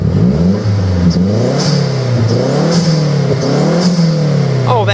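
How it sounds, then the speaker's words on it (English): A 2008 Mazdaspeed3 with a turbocharged engine revs repeatedly while parked, loud and close, each rise and fall of pitch sweeping up and back down in a series of throttle blips with a faint turbo whoosh. "Let's go ahead and rev it up and hear how she sounds."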